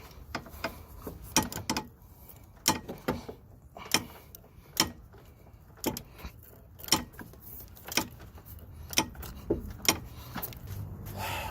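Ratcheting wrench tightening a front suspension bolt on a BMW E36, heard as a string of sharp, close metallic clicks in uneven bursts over a quiet background.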